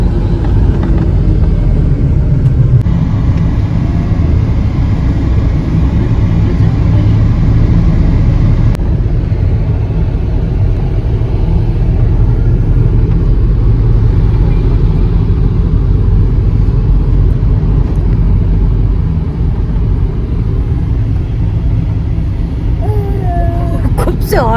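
A car drives along, heard from inside the cabin as a loud continuous low engine rumble and road noise for the whole stretch, with people talking over it.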